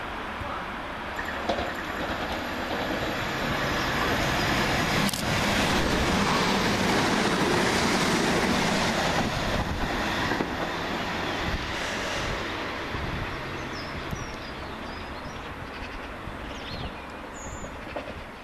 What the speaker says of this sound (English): Another fast train now in the form of 377475, working 1 Sierra 11 from Portsmouth and Southsea to Brighton